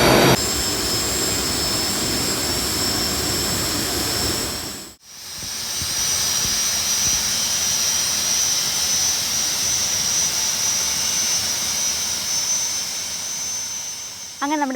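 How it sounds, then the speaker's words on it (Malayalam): A Learjet 25B turbojet engine runs after a cold start, giving a loud, steady roar with a high whine and hissing rush that dips briefly midway and then holds, with no talk over it. "ലിയർജെറ്റിൻ്റെ ഈ ഇരിക്കുന്ന ടർബോ ജെറ്റ് എഞ്ചിൻ്റെ കോൾഡ് സ്റ്റാർട്ട് നമ്മൾ അത്യാവശ്യം കുഴപ്പമില്ലാതെ ചെയ്തു"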